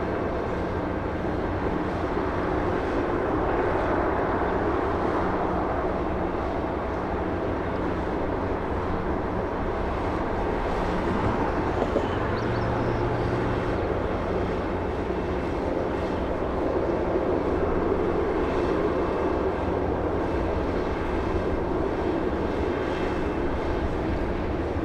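Airliner approaching to land at Los Angeles International Airport, a continuous broad engine roar and rumble that swells slightly midway, heard from a distance with no talk.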